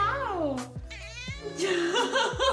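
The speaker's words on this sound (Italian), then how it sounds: "Gatto Denver." A cat lets out several drawn-out, wavering meows close by, mixed with people talking over and between the calls.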